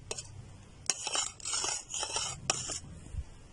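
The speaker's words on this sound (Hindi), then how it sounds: "अब इसको अच्छी तरह से मिक्स कर लेना है।" A spoon mixes mustard oil, kalonji seeds and castor oil in a container, giving bursts of light metallic clinks and scraping that come and go over a few seconds, close and fairly quiet.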